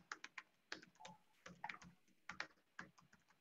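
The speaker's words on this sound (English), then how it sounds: "I'm typing it in right now." Someone types on a computer keyboard, a quick, irregular run of light key clicks in small bursts with short pauses, faint and close, with no talk.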